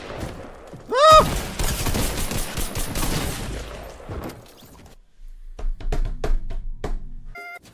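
Rapid gunfire from a shotgun in a fast-paced online shooter, a loud dense burst of overlapping blasts followed by scattered sharp single shots, with a player's voice exclaiming over it.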